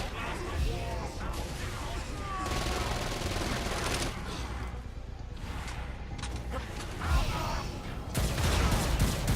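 Continuous rapid SMG fire in Saints Row: Gat Out of Hell, loud and dense with chaotic impacts throughout, and someone talking over it.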